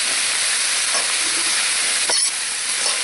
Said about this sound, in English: Now fry the vegetables. Really hot and quickly.